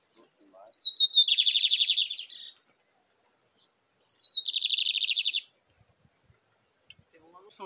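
Lined seedeater (bigodinho) calling near a trap cage outdoors: two clear, loud song phrases, each a thin rising note followed by a rapid buzzy trill, separated by a few seconds of quiet.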